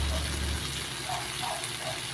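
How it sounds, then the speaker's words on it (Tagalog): A small splash of water goes into a cooking pan, a brief close gush at the start that gives way to soft bubbling and simmering. "Lagyan pala natin ng kunting tubig."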